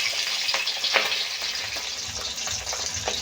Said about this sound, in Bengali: মাছগুলো আমি এক এক করে সব ভেজে নেব